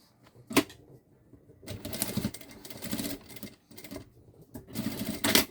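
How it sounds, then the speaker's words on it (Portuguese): A sewing machine runs a finishing topstitch over the zipper of a synthetic-leather backpack, in several whirring bursts of stitching separated by short pauses, close and clear. "Vou passar uma costurinha aqui em cima do zíper."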